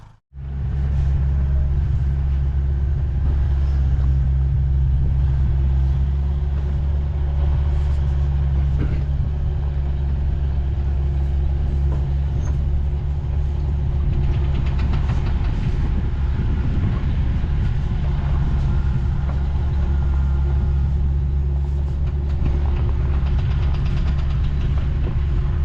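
A farm tractor engine idles steadily while warming up, a loud, close, low throbbing rumble that holds an even rhythm from start to finish after a brief startup.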